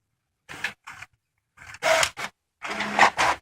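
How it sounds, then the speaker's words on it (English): A home printer runs a duplex pass, feeding a page back in to print its second side, giving a series of short mechanical whirs and clatters separated by brief pauses, close and fairly loud. "it's going to print out the other side"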